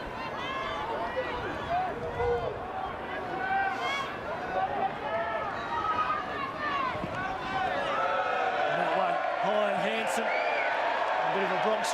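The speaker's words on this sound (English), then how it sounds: "Bronx cheer there from the home supporters" Home football supporters jeer at a cup match in a Bronx cheer, a broad swell of crowd noise and whistling that rises under steady commentary from nearby announcers.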